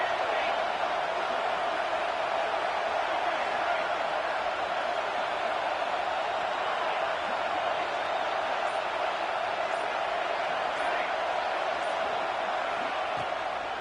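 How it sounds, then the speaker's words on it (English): Football stadium crowd at a Texas versus Oregon game, roaring loudly and steadily for the home defense as a dense, unbroken wall of noise that never lets up. "Listen to this crowd just shaking the girders of this place,"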